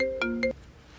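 A mobile phone ringtone for an incoming call: a short, bright melodic chime of a few quick tones, fairly faint and alone, then falling away to quiet.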